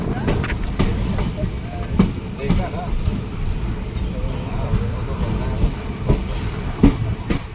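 Inside the Tutari Express passenger train as it runs, a constant low rumble carries sharp rail clicks and knocks, while people talk nearby.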